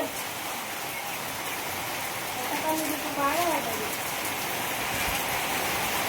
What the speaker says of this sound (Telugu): షూటింగ్ మధ్యలో వర్షం పడుతుంది చూడండి